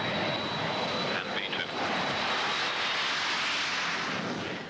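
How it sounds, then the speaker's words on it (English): BAC One-Eleven airliner taking off from a busy airfield, a steady, loud broadband jet roar that holds throughout with a faint high whine, and a voice speaking over it. "Mirko, though unfamiliar with the big airliner, makes a perfect takeoff."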